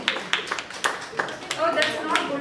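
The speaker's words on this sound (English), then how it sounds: "A round of applause to group D." Workshop audience at a medical institute gives group D a short round of applause: scattered, uneven claps from a modest crowd, fairly close, with voices murmuring over them.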